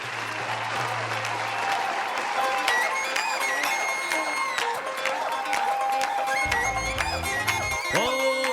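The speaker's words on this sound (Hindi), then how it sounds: "परिवार के सारे सदस्य सज धज कर आ रहे हैं, तो जोरदार तालियां होनी चाहिए" Audience applause at a wedding sangeet as the family arrives, sustained dense clapping from a large crowd throughout, with music and faint voices underneath.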